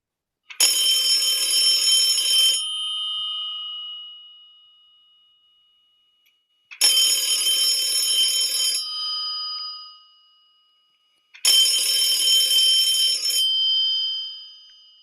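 An old-style telephone bell rings three times, each ring a bright two-second burst followed by a fading decay and silence, with nobody picking up.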